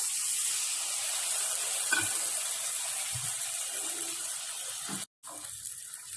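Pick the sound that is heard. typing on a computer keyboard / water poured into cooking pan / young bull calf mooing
water poured into cooking pan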